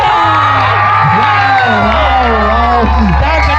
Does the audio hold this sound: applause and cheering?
yes